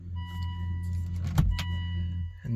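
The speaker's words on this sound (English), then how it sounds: "turn the key all the way, and the car starts, powers up the electrical system" A 2006 Aston Martin powering up as the key is turned, with a steady low hum from the electrical system and engine running throughout, faint high tones, and a brief louder click or thump near the middle.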